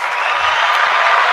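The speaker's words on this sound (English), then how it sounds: "And clap for that." An audience applauding in a room: steady, dense clapping at a fairly loud level, continuous throughout with no pauses or voices standing out.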